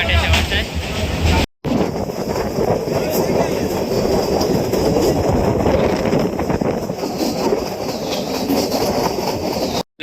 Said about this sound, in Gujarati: અમે ટ્રેનમાં બેઠી ગયા છે અને ટ્રેન ચાલુ થઈ ગઈ છે